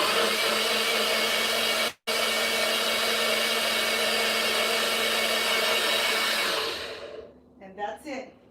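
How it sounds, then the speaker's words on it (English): A NutriBullet blender whirs at a steady high pitch blending cherries and raspberries, pausing briefly once, then spinning down to a stop near the end. "now I'm just going to blend away with my NutriBullet"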